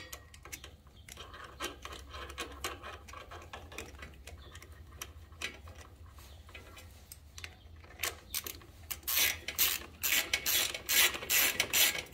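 Small 4mm cover screws being snugged up with a ratchet on a Yamaha V Star 650 motorcycle during an oil and filter change: quick clicking ratchet bursts, close and sharp, getting louder toward the end, with no talking.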